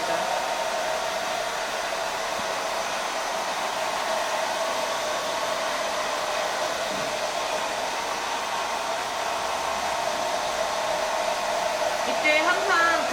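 A hair dryer blows continuously at a steady, loud roar throughout while styling hair after shampooing, with a brief rustle of movement near the end.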